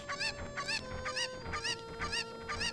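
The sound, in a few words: chicken clucking after being thrown in Zelda Ocarina of Time video game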